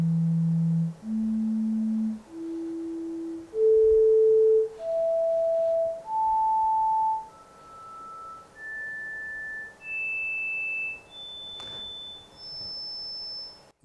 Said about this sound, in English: so we're playing a bunch of tones like that.